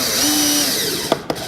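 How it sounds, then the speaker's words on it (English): Screw driven into half-inch drawer-box wood with a power drill, a steady whining drive followed by two short sharp cracks as the wood splits, fairly close and with no talk. "I don't know if you heard it, but there's a big crack right there."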